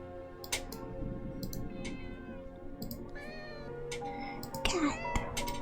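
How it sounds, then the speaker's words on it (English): A cat meows a few times in a video game, its short calls rising over steady game music and background sounds, with a brief louder burst near the end. "There's a cat in the cyber abyss."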